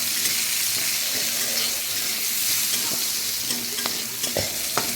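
Cashews and raisins fry in an open pan for a vegetarian mung dal, giving a steady broad sizzle with scattered scraping stir clicks near the end, close and fairly loud, with no talking.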